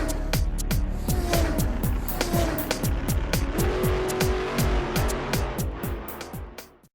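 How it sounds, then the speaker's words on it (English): Racing car sound effect for a classroom racing game: a loud engine revs repeatedly through rising gear sweeps with tire squeal and whooshing, continuous and close, with no talking. "That's the sound of the racing game of Chengwanyu Primary School's racing teams."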